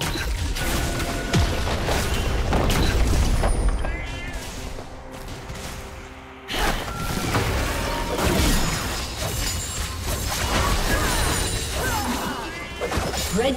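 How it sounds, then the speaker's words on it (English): Turret destruction in a League of Legends match: a dense run of crashing, shattering and booming impacts with mechanical clatter, a brief dip midway, then more layered crunching bursts, loud and close throughout. "Red team's turret has been destroyed."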